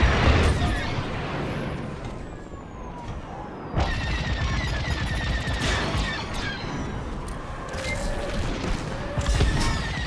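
Missile fire and combat explosions in the Star Wars Squadrons video game, with a descending whistling streak, a sharp boom near the middle and a dense, continuous roar of battle noise beneath.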